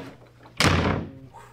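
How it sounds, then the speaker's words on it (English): A door is slammed shut with one loud, sudden bang that decays over about half a second, preceded by faint room noise. "Always slamming doors in men's faces."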